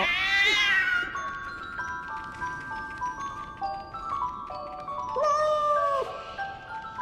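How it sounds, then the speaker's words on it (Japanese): In a video game, a cat meows repeatedly with drawn-out, wailing cries, close and fairly loud, over a steady background of game music and ambience. "Why is that cat meowing?"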